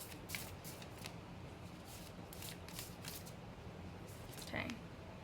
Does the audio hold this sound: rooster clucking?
no